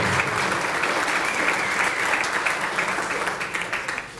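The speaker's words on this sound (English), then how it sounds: "they all deserve a round of applause" Loud, dense applause from an audience at a community volunteer recognition evening, sustained clapping from many hands close by that tapers slightly toward the end.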